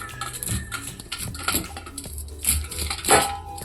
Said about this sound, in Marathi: आता हे चाकूच्या साहाय्याने त्याला थोडीशी कट करून घेते